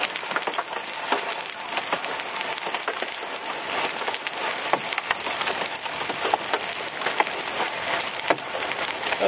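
Hail falls hard during a Nebraska hailstorm, making a dense, continuous rattle of stones striking surfaces close by, with no voices.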